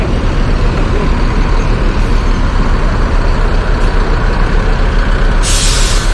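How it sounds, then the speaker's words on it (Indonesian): A Putra Pelangi intercity bus on the Bogor to Medan route pulls into Kampung Rambutan terminal: a loud, close, steady engine roar with road rumble, then a sharp hiss of air brakes released near the end. "Bus Putra Pelangi ini"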